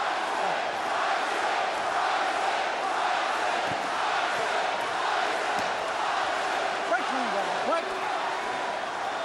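A boxing arena crowd at the Mike Tyson versus Danny Williams heavyweight fight roars and cheers steadily throughout, a dense wash of voices with occasional louder shouts.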